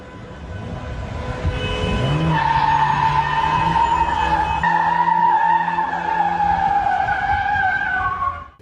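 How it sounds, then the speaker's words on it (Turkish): A Tofaş car drifts through a junction on a street in Isparta during a wedding convoy, its tires letting out a long, loud, wavering squeal over engine roar that builds, holds for several seconds and then fades out. "Tofaş marka otomobil kavşakta drift atarak trafiği tehlikeye"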